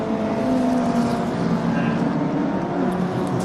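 Race cars at a regional motorsport festival, including a Lotus, drone on a track with a sustained engine whine that shifts pitch as they run close together, while a commentator talks over the noise throughout.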